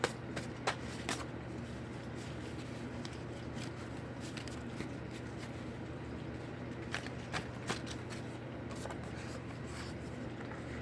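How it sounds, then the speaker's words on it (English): Soft, continuous shuffling of tarot cards with papery riffles and brief taps, close by, over a steady low hum and faint room noise. "You're watching me shuffle."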